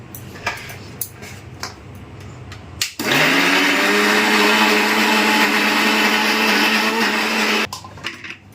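An electric mixer grinder blends onion, chili, tomato, ginger and garlic, starting abruptly after a few light knocks, roaring loudly and steadily for about five seconds, then cutting off, followed by more small clunks.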